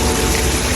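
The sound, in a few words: water flowing in a resort waterfall feature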